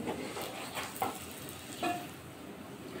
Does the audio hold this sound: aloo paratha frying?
yes